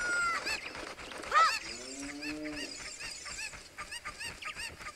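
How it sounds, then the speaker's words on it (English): Game chickens clucking and squawking in Zelda Ocarina of Time 3DS, a run of short bird calls with one louder squawk, over background game music and sound effects. "Oh yeah, the chickens. Gotta bring all the chickens."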